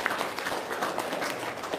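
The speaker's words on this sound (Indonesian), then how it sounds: "tepuk tangan dong, luar biasa" Audience applause in a dense, steady wash of clapping, fairly close and sustained throughout with no clear voice over it.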